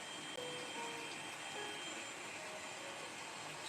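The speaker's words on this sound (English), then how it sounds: "Now pull the train back" A model train on a layout backs up with a steady, faint mechanical whir and hum, with occasional soft squeals from the wheels on the track, and no one speaking.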